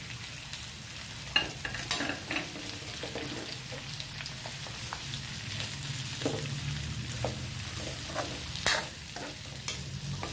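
Bitter gourd and winged beans dropped into a hot pan for pinakbet with pork belly crackle and sizzle steadily, with sharp clicks and stirring clatters scattered through, and no talking.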